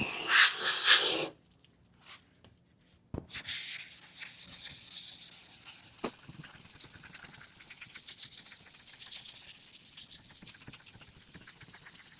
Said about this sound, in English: I'm going to wet sand now this entire area.